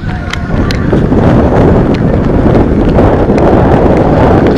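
Strong wind buffeting the microphone during a tandem parachute jump, a loud, continuous low roar, with faint distant voices underneath.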